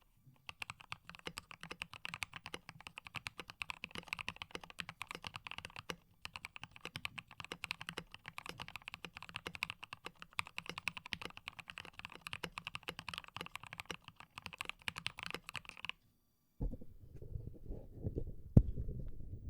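Typing on a KBD67 Lite mechanical keyboard, a fast irregular run of deep, close clacking keystrokes that stops abruptly near the end, followed by brief low handling noise.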